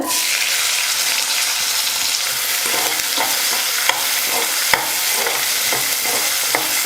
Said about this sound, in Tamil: ஒரு ரெண்டு நிமிஷத்துக்கு வெங்காயம் வந்து நல்லா வதக்கிக்கலாம்